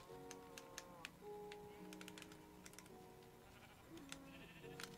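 Sheep bleat in the video game Minecraft, several short wavering calls over a steady background of in-game music, with faint key clicks scattered throughout and no voices.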